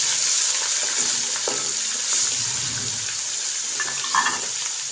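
Ginger garlic paste frying with browned onions in a pot for potato and pea yakhni pulao, a steady close sizzle with a few stirring scrapes and clinks, no voices.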